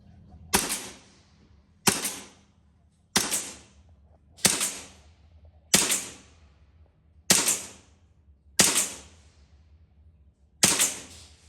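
A Krownland KL Night Viper 4.5mm BB air pistol with blowback firing eight sharp, evenly spaced shots at about 10 meters, each a crisp snap with a quick metallic decay, close and loud.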